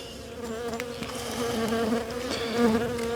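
Honeybees buzz loudly and steadily around an open beehive during a beekeeping inspection, a dense close swarm hum that stays continuous throughout with no speech.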